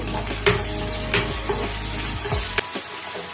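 Whole spices, cinnamon, cloves and cardamom, frying in hot oil for Andhra tomato rice, a steady close sizzle with a few sharp clinks and stirring scrapes before it cuts off near the end.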